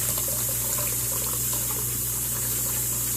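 Broth from a can pours into a 5-quart oval slow cooker, a steady close liquid gush that runs unbroken for about three seconds, with no voices.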